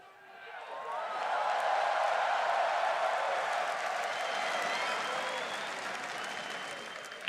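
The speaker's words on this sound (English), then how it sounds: "And everybody cheering you here." Arena crowd at an esports grand final in Toronto's Air Canada Centre, a sustained wave of applause and cheering that swells quickly, holds loud, then tapers slightly.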